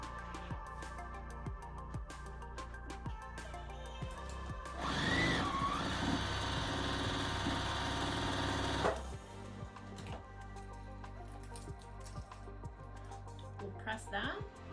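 A sewing machine stitches two quilt pieces together in a steady whirring run lasting about four seconds, with quieter handling noises and room sound before and after.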